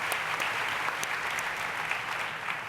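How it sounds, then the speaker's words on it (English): A conference audience at the 2018 WFF Conference gives a steady round of applause, a moderately quiet, even patter of many hands clapping with no voices over it. "Let's give them a round of applause again."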